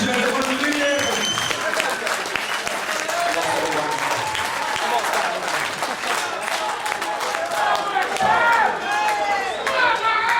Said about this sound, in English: So can you all be upstanding and give him a fantastic round of applause?